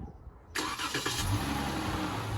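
A 2021 Dodge Charger SXT engine fires up on remote start: a sudden starter crank and catch, with a brief rise in revs, then settling into a steady, close idle.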